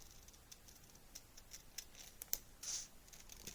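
Scissors cut out a needle felting outline for a mouse figure, giving a quiet series of small snips and scratchy clicks, with one sharper snip and a short rasping cut near the end.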